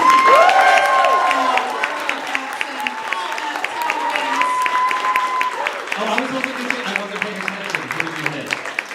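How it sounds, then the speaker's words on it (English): Audience applause and cheering at a live podcast taping, loud at the start and tapering to scattered clapping, with people talking and laughing over it throughout. "by a round of applause that is equal to all of them, please thank our guests"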